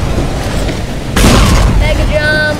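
In the video game Tetragon Fortress 2, a loud sudden explosion booms midway through, bursting over rumbling background noise and trailing into sharp electronic tones, with a voice talking nearby.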